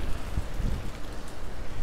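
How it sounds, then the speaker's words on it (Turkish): Steady heavy rain pours down outdoors in Barcelos, Portugal, a dense continuous hiss with wind buffeting the microphone now and then. "Aşırı bir yağmur var."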